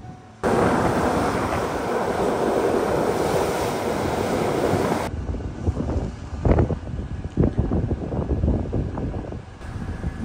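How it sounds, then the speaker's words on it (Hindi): Big ocean waves on the North Island coast near Wellington, New Zealand, roar and crash continuously with heavy wind buffeting the microphone, loud throughout, with separate surges of breaking surf in the second half and no talking. "लहरें बड़ा रूप तो ले रही है भाई"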